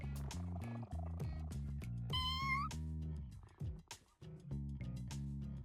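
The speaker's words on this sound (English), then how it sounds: "time to pet the kitty" A cat meows repeatedly while being petted in the video game No More Heroes, a series of clear, tonal mewing calls with one sharper, higher cry partway through, set against steady game background music.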